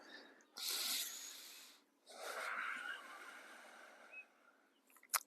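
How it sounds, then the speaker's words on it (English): Two long, airy breaths, a deep inhale and a slow exhale, follow one another during a guided breathing exercise, close and fairly soft with a quiet pause between them, in a quiet room. "Deep breathing, feel the ribs expand in the floating rib area."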